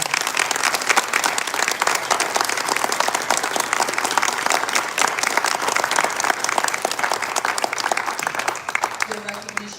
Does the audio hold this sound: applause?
yes